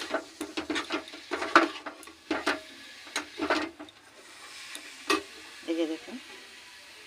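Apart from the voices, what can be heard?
stirring fried cauliflower and potato in a pan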